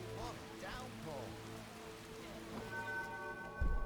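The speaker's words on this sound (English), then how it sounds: "What a downpour." Heavy rain pours down in the video game The Witcher, a steady dense hiss that runs throughout while voices talk over it.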